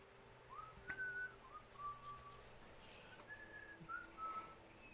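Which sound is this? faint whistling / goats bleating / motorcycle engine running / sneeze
faint whistling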